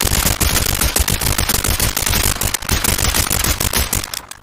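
Rapid automatic gunfire from a Tavor rifle in the SCP 5k video game, dense loud cracking bursts fired continuously, close and uninterrupted with no talk.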